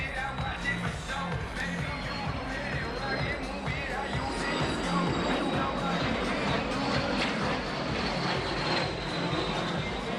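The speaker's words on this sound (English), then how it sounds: "here the Albatross ends its show with a formation flypast with a Peregrine Tarragon" A formation flypast at the Wings Over Baltics 2018 airshow, an Albatross flying alongside a Latvian-built Peregrine Tarragon ultralight, gives a continuous loud propeller engine drone that holds steady and rich throughout.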